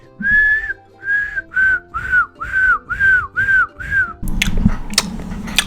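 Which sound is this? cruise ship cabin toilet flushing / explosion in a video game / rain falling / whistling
whistling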